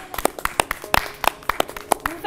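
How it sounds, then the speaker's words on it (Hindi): A few people clap for children doing yoga for the first time at a yoga session, giving scattered, uneven hand claps that ring out fairly close and separate rather than merging into full applause. "इनके लिए ताली बजाओ।"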